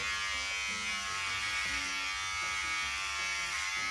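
Electric razor shaving the side of a person's head, a steady close buzzing drone throughout, with slight shifts in pitch as the blades move over hair.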